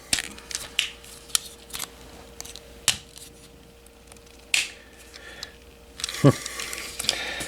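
Plastic parts of a Transformers Armada Megatron toy are folded and clicked into tank form: sharp close snaps and small clicks scattered irregularly, with a louder cluster of handling near the end.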